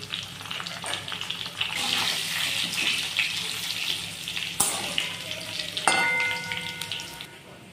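Potato pieces fry in hot oil with a bubbly, crackling sizzle that swells and fades, broken by a few sharp clinks and scrapes from stirring, close up and without talk.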